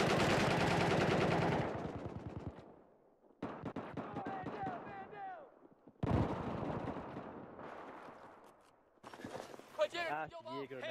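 Gunfire in Battlefield 4 comes as dense rapid bursts of automatic fire, loud and close, in several separate volleys with brief quiet gaps between them, while someone talks over parts of it.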